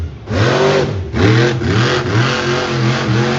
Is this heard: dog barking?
no